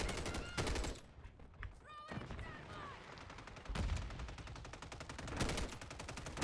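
Bursts of automatic gunfire from Call of Duty: Warzone, close and loud, firing in several rapid volleys with short pauses between, over a continuous game background.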